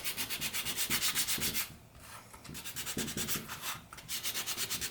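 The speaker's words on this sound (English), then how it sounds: "We'll sand the back of this as well." Rhythmic back-and-forth sanding on the back of a styrene model part, with fast rasping strokes in steady bursts, a brief pause in the middle, and no talking.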